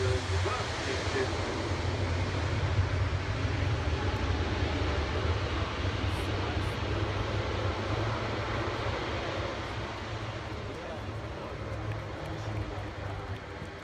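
A jet aircraft landing at the Farnborough Airshow, a broad steady roar of engine and wind noise heard from a distance, holding constant and easing slightly toward the end.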